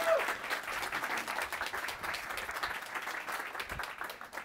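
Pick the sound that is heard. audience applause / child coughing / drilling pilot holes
audience applause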